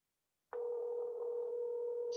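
A telephone ringback tone on an outgoing call, a single steady electronic tone that starts abruptly after a short silence and holds evenly, clear and close.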